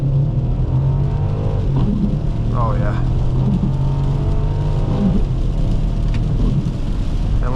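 A 2001 BMW X5 4.4i pulling away from a standstill under full throttle, a steady droning engine rising in pitch through gear changes, heard from the cabin with a person talking over it.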